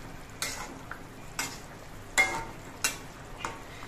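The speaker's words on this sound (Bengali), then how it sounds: "মাছগুলো এবার নেড়ে দিচ্ছি।" Hilsa fish curry with eggplant is stirred in a pan: several spaced scrapes and soft clinks of a utensil over a low simmering hiss.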